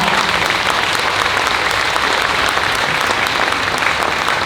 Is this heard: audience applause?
yes